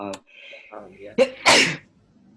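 A single sharp sneeze bursts out close by, right after a brief spoken word in a quiet room during a tutoring lesson.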